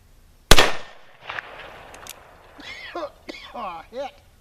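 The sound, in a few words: gunshots from .45 Colt black powder reloads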